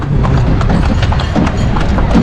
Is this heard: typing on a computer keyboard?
no